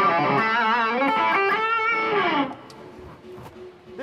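An electric guitar lead played through an analog drive and distortion pedal rings out thick and sustained for a couple of seconds, then cuts off, leaving a faint hum and a few soft noises.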